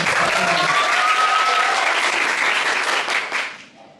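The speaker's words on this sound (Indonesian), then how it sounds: "Boleh dong berikan tepuk tangannya." Applause from a school audience at an SMP 57 Jakarta student podcast recording, dense and steady, fading out near the end.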